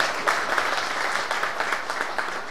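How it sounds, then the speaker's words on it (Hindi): Audience members at a Hindi fortnight closing ceremony clap for award winners. The brisk, crowded applause stays fairly close and steady throughout the short stretch. "साथियों तालियां बजती रहनी चाहिए।"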